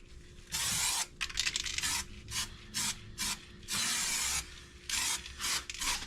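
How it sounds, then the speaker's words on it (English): Aerosol bed liner sprays onto a truck in a series of close hissing bursts, some long and some short, separated by brief pauses, with a faint steady hum underneath. "simply spray on the liner."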